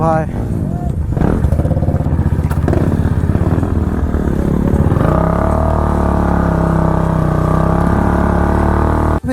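A Benelli superbike revs hard while drifting, its engine climbing to a loud, sustained roar close by, with people talking over the din.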